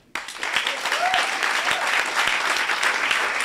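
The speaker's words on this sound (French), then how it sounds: "vous pouvez vous applaudir parce qu'on a passé super 9 semaines" Graduating bootcamp students at a coding school demo day in Marseille applaud themselves, dense sustained clapping from a room full of people that starts abruptly and holds steady, with a faint voice underneath.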